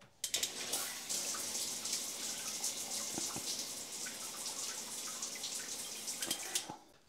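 Steady hiss of a bidet attachment's water jet spraying toward a shower opposite, a continuous close rush of water with faint dripping and splashing, no voices.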